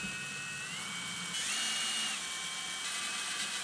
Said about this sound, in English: remove this cover by removing these four Phillips screws.